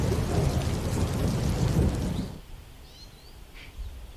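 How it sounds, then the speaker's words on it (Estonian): A thunderstorm rumbles with heavy rain pouring loudly and close, then the downpour abruptly drops away to a quiet backdrop with faint bird chirps. "ma olen siin keset põldu, keset täiuslikku tormi tegemast seda videot."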